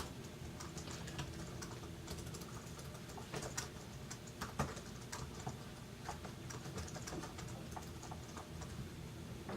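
Fingers type code on a computer keyboard, producing a fairly quiet, steady stream of uneven clicks and taps that continues throughout, with no voices.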